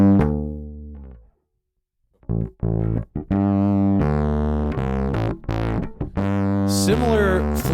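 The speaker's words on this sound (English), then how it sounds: "So here's overdrive." Bass guitar played through a Creation Audio Labs Grizzly bass pedal set to overdrive, a single held note fading into silence, then a run of distorted, punchy notes and short phrases, close and prominent.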